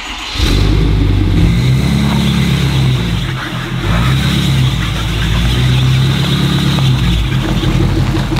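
A pickup truck fitted with budget snow tracks drives along. Its engine rumbles loudly and steadily, with rising revs and a brief dip partway through.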